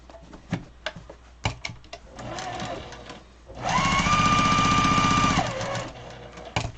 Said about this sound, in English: And then you're going to sew down this side.